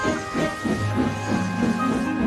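James the steam engine puffs away in rhythmic, hissing chuffs that repeat steadily over a constant mechanical hum, close and fairly loud.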